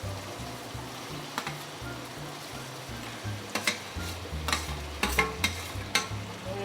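Mashed potato being stirred into a tomato masala in a pan, with a low bubbling sizzle throughout and several sharp spoon scrapes and knocks against the pan toward the end.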